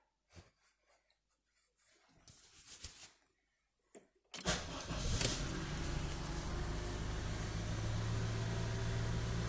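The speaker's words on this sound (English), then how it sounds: "now I'm going to start the vehicle" A Honda CR-V engine cranks and catches after some quiet handling sounds, then settles into a steady, close, continuous idle hum.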